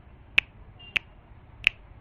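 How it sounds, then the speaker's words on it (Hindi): Three crisp finger snaps, evenly spaced about half a second apart, sharp and close in an otherwise quiet space. "चुटकी बजाती है"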